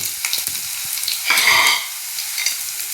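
Fifteen garlic cloves with a green chilli sauté in a pan for a vegetable chicken curry, giving a steady crackling sizzle with spoon stirring that swells loudly for about half a second midway before settling back.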